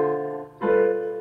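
Jazz piano sounding sustained chords in a 2-5-1 progression, with one voicing held and a new chord struck about halfway through, close and clear with no talking.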